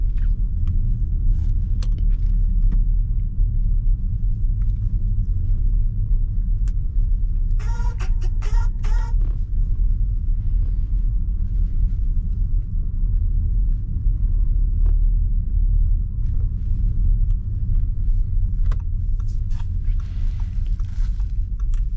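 An Audi RS7 cruising at night gives off a steady, deep engine rumble that fills the whole stretch, with a brief cluster of faint clicks partway through and no talking.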